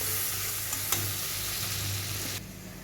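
Green chili and fennel paste frying in a pan, a steady close hiss of sizzling oil with one brief clink, running unbroken until the sizzle drops sharply near the end.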